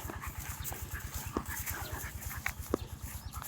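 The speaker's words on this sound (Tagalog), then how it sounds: "Ang pangalan niya pala ito, yung aso ni nanay ay Mighty." A dog pants rapidly and rhythmically close by, with a few faint whimpers and small clicks over the steady breathing.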